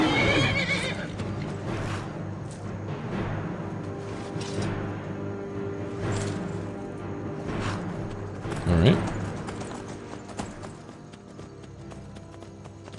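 A horse in the Skyrim video game whinnies loudly and its hooves clip-clop, heard under someone talking, with a stronger burst of whinnying near the end.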